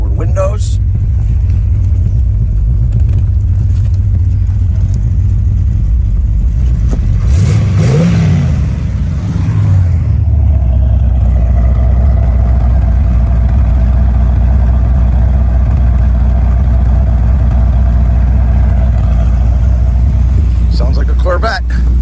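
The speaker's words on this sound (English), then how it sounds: "Sounds like a Corvette." A muscle car engine rumbles at a steady idle, then revs up sharply once around the middle before settling back into a deep, even idle, loud and close throughout.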